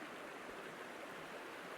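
Seuss Creek in Montana's Paradise Valley flowing on an autumn hike, a steady soft rush of running water filling the short stretch with no voices.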